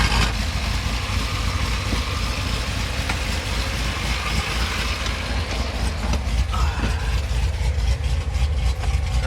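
Chevrolet Corvette C7 Z06 V8 idling with a lumpy cam, a loud, continuous choppy rumble with uneven pulsing, recorded up close with no talk over it.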